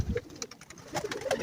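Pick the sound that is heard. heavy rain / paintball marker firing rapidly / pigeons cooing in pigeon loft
pigeons cooing in pigeon loft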